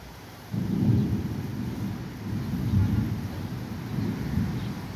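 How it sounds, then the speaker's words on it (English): Thunder rolls through a severe thunderstorm, a deep low rumble that swells and fades in waves over several seconds, fairly loud against steady background noise. "You guys hear thunder in a minute?"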